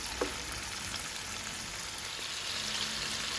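Small pancetta cubes slowly frying in a pan and rendering their fat, giving a steady close sizzle with faint crackles throughout and no voices.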